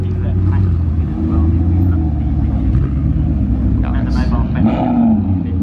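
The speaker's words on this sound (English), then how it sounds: "Mark II Audi R8." A second-generation Audi R8 rumbles past at a classic and supercar gathering, a deep, steady engine drone holding throughout with a slight swell near the end, heard close amid crowd noise.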